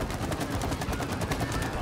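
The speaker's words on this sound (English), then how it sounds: "I'm going to shoot when you load it up." Rapid gunfire from the It Takes Two video game, a dense, steady burst of repeated shots rattling continuously at close range with no pauses, loud and busy throughout with no talking over it.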